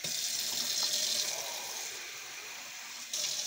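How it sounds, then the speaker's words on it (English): Water poured into a pan of salted potatoes on the stove, a steady close hiss and gush that runs the whole time, easing slightly near the end before picking up again. "so I might put a little more water in."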